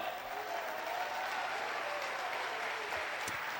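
A church congregation applauds, a dense and continuous wash of many hands clapping at moderate volume, somewhat distant and even throughout, with a brief knock near the end.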